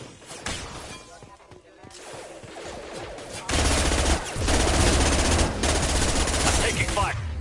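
Gunfire from the video game Mass Effect 2 on PS5: dense rapid bursts of automatic weapon fire that intensify partway through into a loud, sustained barrage with crashing impacts, while game voices speak over it.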